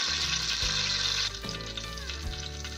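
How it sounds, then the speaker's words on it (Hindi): Green chillies frying in hot oil in a karahi, a loud, steady, close sizzle that continues without a break for the whole moment, with no voice over it. "हमने ऑयल लिया, उसके अंदर हरी मिर्चें फ्राई कर रहे हैं।"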